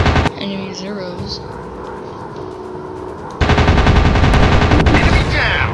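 Rapid machine gun bursts from fighter planes chasing enemy Zeros in a warplane video game, loud and continuous with a steady drone underneath, swelling into a denser, louder stretch of firing in the second half.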